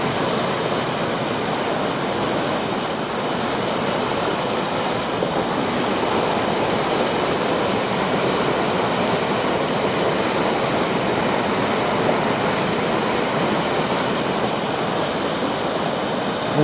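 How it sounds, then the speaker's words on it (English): A waterfall in a shaded valley roars in a steady, loud, broadband rush of falling water that stays constant throughout with no voices. "I need to come close to the waterfall and show it to you in 4K."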